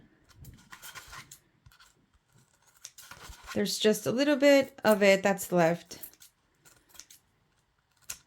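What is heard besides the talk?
scissors cutting foam sheet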